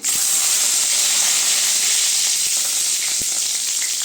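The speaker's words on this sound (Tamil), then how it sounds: "இப்போ காஞ்ச மிளகாய் சேர்த்துக்கலாங்க கருவேப்பிலை சேர்த்துக்கலாம்" Dried red chillies and curry leaves crackle in hot oil for a sirukeerai kadaiyal, giving a loud, continuous close-up sizzle and hiss with a few faint pops and no voices.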